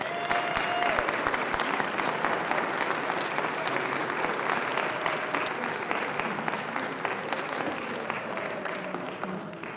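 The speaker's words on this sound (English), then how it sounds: "Would you please give them one more round of applause?" A high school choir concert audience gives sustained, dense applause, steady and fairly loud throughout, with faint voices mixed in.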